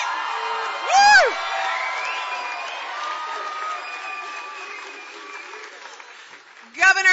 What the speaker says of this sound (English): I think we got to end with a cheer, because this is a very rowdy crowd